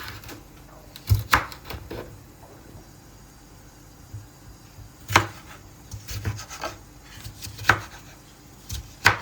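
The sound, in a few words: knife chopping bell peppers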